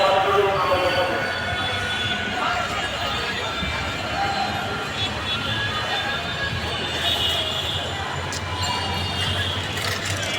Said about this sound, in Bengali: ট্রেন চলে গেলাম।